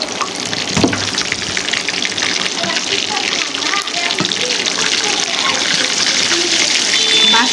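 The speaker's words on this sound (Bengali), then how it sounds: "নেড়ে চেড়ে ভালো করে ভেজে নিচ্ছি" Chicken pieces fry in hot oil for a restaurant-style crispy fried chicken, a loud, steady broadband sizzle and hiss that runs unbroken throughout with occasional pops and crackles.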